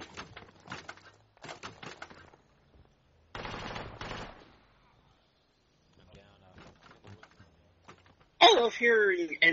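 Machine guns fire in short, sharp bursts during a Project Reality squad battle defending barns. Several separate volleys come amid quiet gaps, and players talk over and between the shots.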